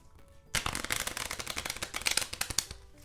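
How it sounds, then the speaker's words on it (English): Playing cards shuffled by hand during a self-working card trick, a rapid riffling flutter of many quick snaps that starts abruptly and runs close and fairly loud for a few seconds, with no talk over it. "Now those cards are shuffled"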